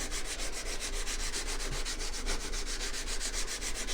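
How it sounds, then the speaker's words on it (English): A chisel is rubbed back and forth on a 400 grit sharpening stone, producing a close, even rasping scrape in a fast, regular rhythm that continues steadily with no speech. "This is a 400 grit stone."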